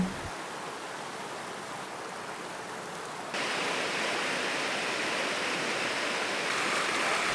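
Muara Karing waterfall pours and splashes in a steady, dense wash of water, growing slightly louder partway through, with no voices.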